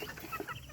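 Native chickens on a rural provincial farm give a few soft, close clucks in a brief, quiet moment.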